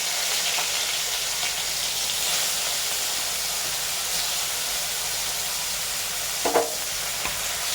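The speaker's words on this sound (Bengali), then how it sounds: "তেল দিয়ে ধোঁয়া উঠছে বন্ধুরা আমরা এবার চিংড়ি মাছগুলো দিয়ে দিচ্ছি ভাজার জন্য দেখুন" Prawns frying in smoking-hot oil, a steady loud sizzle and hiss running throughout with a brief sharper crackle near the end.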